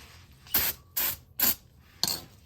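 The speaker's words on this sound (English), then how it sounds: "I'm also going to shoot some brake cleaner onto it." Four short hissing bursts of brake cleaner are sprayed onto the engine of a carbureted 1600cc VW Beetle, evenly spaced and fairly close, with quiet gaps between them.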